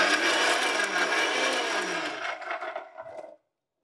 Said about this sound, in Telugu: అయితే ఆనియన్ లైట్గా గ్రైండింగ్ చేసుకుంటాం